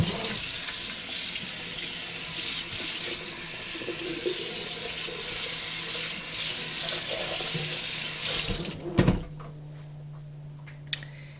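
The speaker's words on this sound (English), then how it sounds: "Rinse the sink." Tap water pours into a kitchen sink as it is rinsed, a loud steady close rush that stops near the end, followed by a brief knock and low hum.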